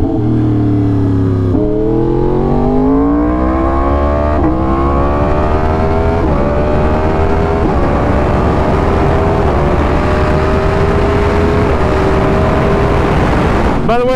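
A Yamaha R1 sport motorcycle engine is heard close and loud, winding up through rising revs with quick downshift blips done without hands on the bars, and the engine note holds strong the whole time.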